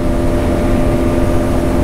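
A Bajaj Pulsar NS200 motorcycle engine holds a loud, steady drone in fifth gear at top speed, a constant hum laid over wind rush and staying level throughout.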